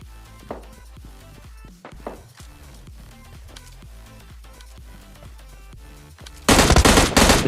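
Gunfire from the PUBG Lite video game, an AKM among the weapons: scattered single shots and footsteps at first, then a sudden loud burst of rapid automatic fire at the end.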